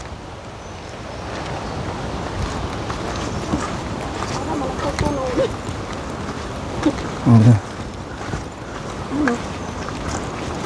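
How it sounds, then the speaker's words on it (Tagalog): A river current rushes steadily like a waterfall, a continuous broad wash of flowing water heard up close, with people talking over it. "Agos ng ilog yata, oh. Parang falls."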